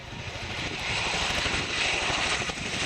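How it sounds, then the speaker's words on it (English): An RAF No. 18 Squadron Boeing Chinook HC-4 helicopter lifts off during an air show display, its rotors and engines a loud, dense, steady roar that swells slightly midway, with no voices. "So we're getting the Boeing Chinook HC-4 from number 18 Squadron as RAF Odium into the air first"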